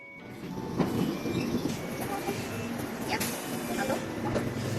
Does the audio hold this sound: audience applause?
no